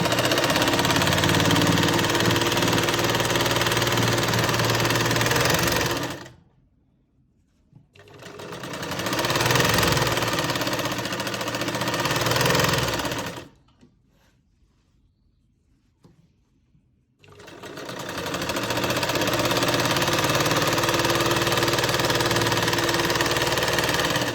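A sewing machine stitching pleats into a salwar runs loud and steady in three long bursts, with two clear pauses between them.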